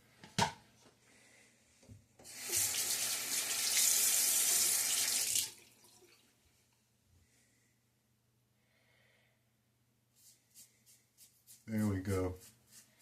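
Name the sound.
tap water running down the sink drain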